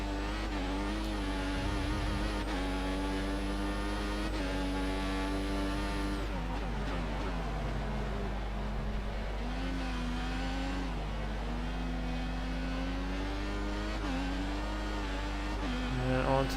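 A Formula One race car engine in the F1 2014 video game, racing in China, whines loudly through repeated rising revs and sudden drops as it shifts gears, with a lift-off near the middle.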